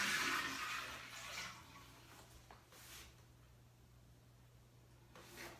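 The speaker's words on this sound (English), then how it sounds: "I'm just going to get some water and just test the toilet." A bathroom toilet is flushed during a rigid LVT floor installation, opening with a loud rushing surge that quickly fades into a quieter refill hiss over a low steady hum.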